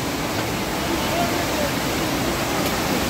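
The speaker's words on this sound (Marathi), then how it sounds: "त्या ब्रिजच्या अलीकडे जर आलं ना तर समोर साईडला वॉटरफॉल आहे." A waterfall on the Andharban forest trek gives a steady, even roar of rushing water, continuous and unbroken throughout at a moderate distance.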